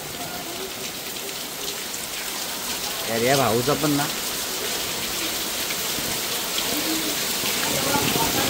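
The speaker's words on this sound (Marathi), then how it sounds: "चला पाऊस पण आलाय." Rain falls steadily outdoors near a village waterfall, a continuous hiss of drops on surfaces throughout, while a person speaks briefly partway through.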